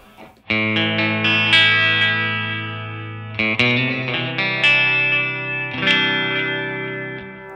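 Strummed electric guitar chords ring through a Flamma FS03 delay pedal set for a tape-like sound, each strum trailing off into soft, slightly wavering repeats, with three or four chords struck in sequence.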